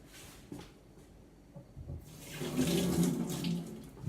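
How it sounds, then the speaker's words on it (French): Running water from a tap wets a hand while sourdough bread is being shaped, a soft splashing rush that swells and continues steadily near the end after a few quiet knocks, without talk. "je vais juste me mouiller la main"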